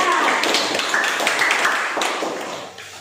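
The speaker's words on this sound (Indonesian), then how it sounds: "Tepuk tangan untuk kelompok 4." Students in a classroom clap for a group that has just presented, giving a short burst of close, fairly loud applause that thins and fades out by the end.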